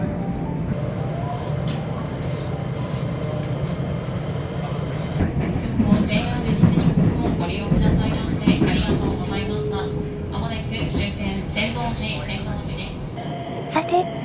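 Interior of a JR Hanwa Line local train arriving at Tennoji at night, with continuous rumbling wheels and rail clatter, a swell of louder clanking midway, and occasional onboard tones and announcements under steady running noise.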